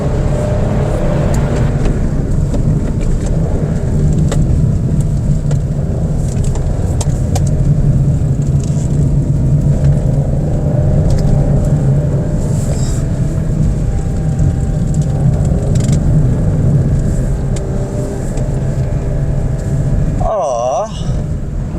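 A 2022 Toyota Raize with a three-cylinder engine drives along with a steady, low engine and road hum inside the cabin, while someone talks throughout.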